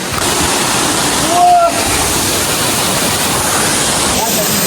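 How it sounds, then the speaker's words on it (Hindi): A waterfall on a village path in Arunachal Pradesh roars as a loud, constant broadband rush of falling water, close by and unbroken, with a short whistle-like tone in the middle. "Guys, look at this waterfall."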